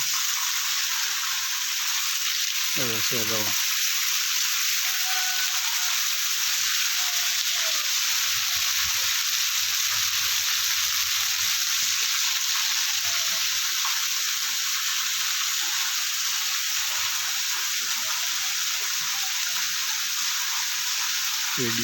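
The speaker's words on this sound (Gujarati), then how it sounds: "આજે વરસાદ બહુ સારો છે" Rain falling steadily in a rural village, a constant broad hiss throughout with a brief voice near the start.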